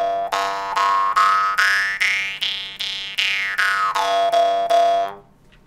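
A jaw harp plays a short melody of about a dozen plucked, buzzing twangs, each note bending to a different pitch that rises and falls, loud and close, ending with a fading ring.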